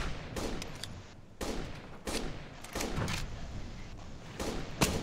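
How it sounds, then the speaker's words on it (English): Gunfire in the video game Operation Flashpoint: Dragon Rising, with several sharp, fairly distant shots and bursts spaced a second or so apart over a constant background rumble. "Someone is shooting at us."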